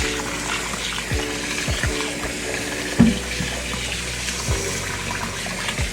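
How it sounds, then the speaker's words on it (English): Tap water runs into a pot of rice for rinsing, a soft steady stream with a few light knocks and clinks of the pot, no voices. "So I'm just gonna run some water in there."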